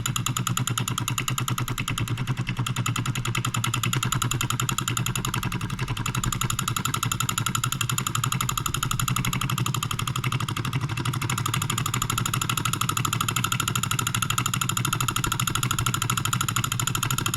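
Small Wilkemp Jr model E solenoid engine, rated 1/60 horsepower, running steadily with a fast, even clatter and electric buzz, slightly shaking, continuous and close throughout with no speech.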